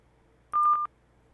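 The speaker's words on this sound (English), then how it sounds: "I dial the same number, but I tell it to only stay online for 30 seconds" A telephone number dialed on a keypad, a brief burst of about four quick electronic tones in a row, clear against a quiet background.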